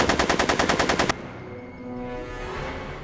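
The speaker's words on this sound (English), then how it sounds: "I'm afraid I'm finding it difficult to concentrate with all the bullets flying around my head, Mr. Corleone." Rapid automatic gunfire in the Back to the Future video game, a loud rhythmic burst of about ten shots lasting about a second, followed by a lower ambient game rumble.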